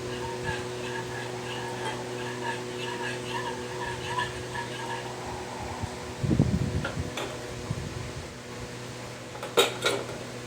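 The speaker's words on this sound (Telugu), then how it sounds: "కాసేపు స్టవ్ పైన అలాగే తిప్పుకుంటూ ఉండాలి." Milk for homemade kulfi is stirred in a pan on the stove, with a spoon scraping and clinking against the metal over a steady fan-like hum, the clinks bunching into a louder burst midway and again near the end.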